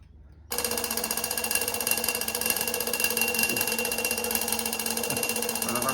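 An antique Junghans alarm clock bursts into a loud, continuous mechanical ring that starts abruptly after a brief quiet moment and keeps going steadily to the end.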